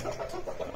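A desi hen clucks in short, soft, repeated pulses from close by, with no talking.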